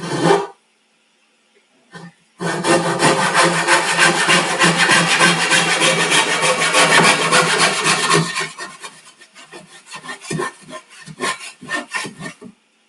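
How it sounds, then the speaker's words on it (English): A hand sanding block wrapped in sandpaper rubs back and forth over a wooden coffee table piece, loud rapid strokes forming a continuous rasping scrape, then breaking into shorter separate strokes near the end. "Just using this sanding block, it's just a piece of sandpaper here."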